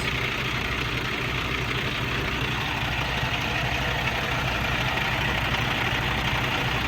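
A truck engine idles steadily with a low, rough rumble and an odd rattling vibration underneath, continuous and fairly close.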